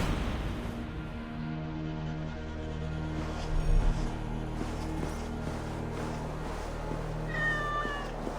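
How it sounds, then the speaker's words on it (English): Cats meow in the Viking-age world of Assassin's Creed Valhalla's Discovery Tour, several drawn-out calls spread across a sustained musical drone and low booms, with no talking. "If these are Freya's cats, they must be leading to her."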